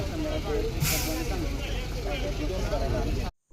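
A truck rumbles close by with a steady engine drone and a sharp burst of air hiss near the start, then the sound cuts off abruptly; faint voices may sit under the noise.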